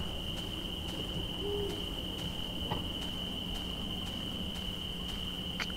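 Owl hooting in the Slender horror video game: soft, low hoots repeat at intervals over a steady high insect-like drone and faint ambient hiss, with no talking.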